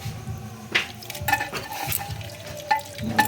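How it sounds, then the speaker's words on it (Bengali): Chicken pieces are dropped into hot oil in a clay pot, giving a soft frying sizzle broken by several sharp scraping and clinking strokes of a spoon against the pot. "সুন্দর করে মাংসগুলো দিয়ে দেব,"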